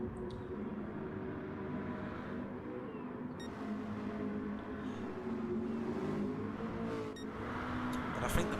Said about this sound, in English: Champ Champ was leading the race at the start until he got some engine damage